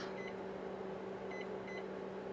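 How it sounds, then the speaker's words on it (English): Microwave convection oven set to 300 degrees: a steady low hum of the running oven and fan, with three short electronic beeps from the control panel as it is programmed and started. "now we're gonna hit the convection oven button, pick 300 degrees, hit start"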